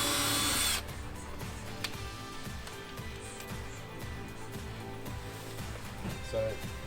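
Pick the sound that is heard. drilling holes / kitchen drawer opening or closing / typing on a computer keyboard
drilling holes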